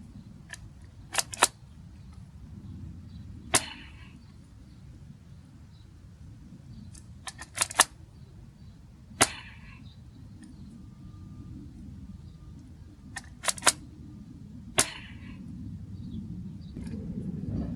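Sharp snapping shots from the top barrel of a Nerf Star Wars Chewbacca foam dart blaster ring out one at a time at uneven intervals, about eight in all, over a steady low hum with no talking.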